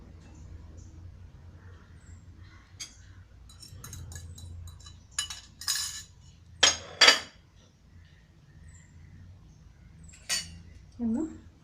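Utensils clinking and scraping against a bowl while tossing a pomelo prawn salad with tomato and carrot, in a few sharp bursts over a quiet background with faint kitchen noise.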